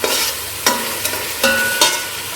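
Rice frying in a pan for coconut rice, a soft continuous sizzle broken by several sharp scraping stirs of a spoon against the pan.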